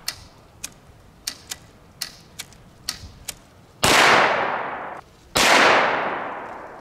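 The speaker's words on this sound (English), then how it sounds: "Let's take one shot." Gatling gun firing 9mm rounds at a transparent shield: a series of sharp, separate clicks and ticks, then two loud, broad bursts of noise that fade out.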